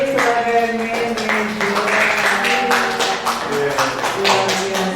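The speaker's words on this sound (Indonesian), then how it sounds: "Tepuk tangan dulu untuk Bapak Ibu guru yang memilih sebagai manajer." Teachers at a school dissemination session receive a round of hand clapping, a patter of claps heard under a person speaking loudly over it.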